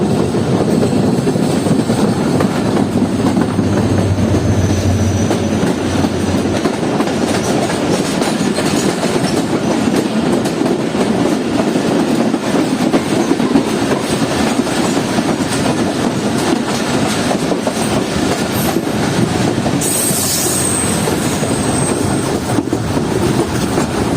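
Shahdeep Express, a privately operated passenger train, running on rails with a loud continuous rumble and rhythmic clickety-clack of wheels, a brief squeal near the end, heard from close by with no voices.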